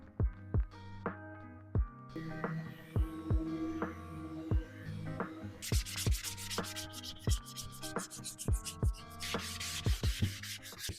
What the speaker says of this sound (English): So we've just finished sanding off the sides